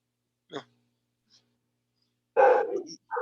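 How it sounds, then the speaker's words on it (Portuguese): Dogs bark in short, separate bursts: one brief bark, a long silence, then a louder cluster of barks at moderate distance. "os cachorros estão latindo demais aqui agora"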